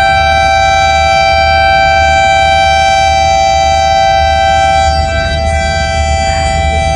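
A train horn sounds before departure at a railway station, a loud, steady, multi-tone blast held for several seconds, very close.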